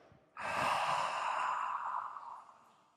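One long, audible exhale from a yoga breathing exercise, beginning abruptly and trailing off gradually, heard close and clear against quiet surroundings.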